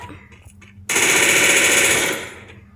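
Automatic gunfire in the Free Fire video game erupts as a loud, rapid burst lasting about a second before fading, with faint player chatter around it.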